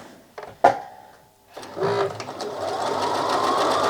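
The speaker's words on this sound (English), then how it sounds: "Then I'm going to sew not on this line, but on each side of this line." A sewing machine stitches pieced quilt blocks, with a couple of clicks and a brief pause before the motor starts a close, steady, rapid whirring run of stitching that continues to the end.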